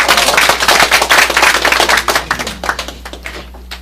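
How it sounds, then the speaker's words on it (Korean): An audience applauds at the end of a lecture on KakaoStory marketing at a social media forum. Dense, loud clapping from many hands is close at first and thins out toward the end. "다시 한번 큰 박수 부탁드립니다"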